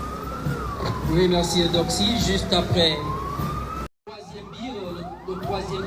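An ambulance siren at the close of a national unity day military parade in Bamenda, loud and sweeping up and down in pitch, with a commentator speaking over it and a brief dropout near the end.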